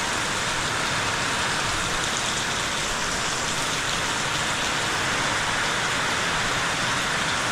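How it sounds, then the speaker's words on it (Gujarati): Heavy rain pours down in a dense, even hiss that holds steady throughout, a constant wash of drops on surfaces with no voices. "કેટલો મસ્ત વરસાદ આવી રહ્યો છે"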